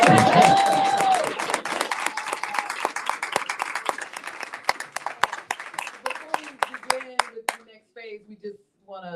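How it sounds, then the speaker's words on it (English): An audience applauds and cheers loudly at first, then the clapping thins out into scattered individual claps that fade to a few last ones. "let's just give a thunderous round of applause"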